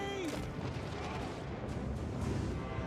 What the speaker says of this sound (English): Oh, the cannons are firing, I think.